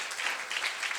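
During a Sunday school service, a congregation applauds in praise, a soft, even patter of many hands heard at moderate distance.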